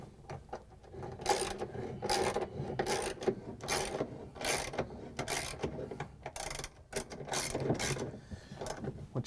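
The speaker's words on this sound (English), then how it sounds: "we're going to grab the ratchet with the extension and a half inch socket. Take out these bolts that hold the motor on." A ratchet fitted with an extension and a half-inch socket works loose the motor bolts on a GE washing machine, making close, repeated bursts of metallic clicking in steady strokes with short pauses between them.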